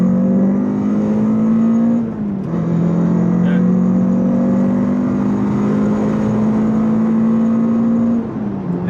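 Renault Clio 182 engine revved hard against its limiter, a loud, close drone climbing and bouncing at the cutoff with brief dips where the revs drop, then rising again.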